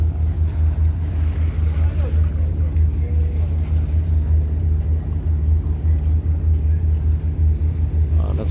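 A tour boat engine at Koh Phi Phi pier in Thailand drones with a steady low rumble during boarding, close and continuous, with water and wind noise around it.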